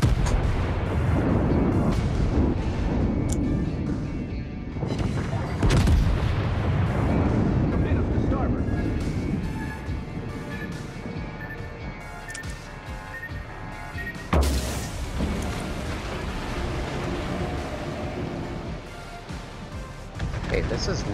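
Battleship guns trading fire with a Kawachi in the naval game World of Warships: a dense, continuous roll of heavy booms and crashing impacts, with one sharp louder blast partway through and voices beneath.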